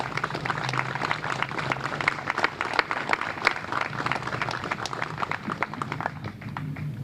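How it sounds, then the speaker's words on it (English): An outdoor crowd at a South Boston Vietnam memorial anniversary ceremony applauds steadily, a moderate, continuous wash of many hands clapping with sharp individual claps poking through, lasting about seven seconds. "Can we give Tom Lyons the round of applause that he deserves?"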